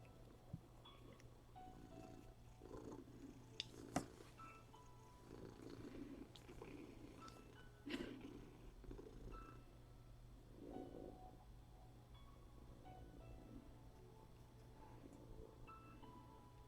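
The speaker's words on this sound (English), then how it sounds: "Both you guys are purring." Two cats purr softly and close up, a low rumbling in rhythmic pulses over a faint steady hum, broken by a couple of small knocks.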